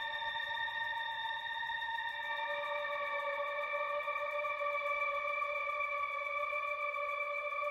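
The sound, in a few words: Eurorack modular synth trance patch with reverb effect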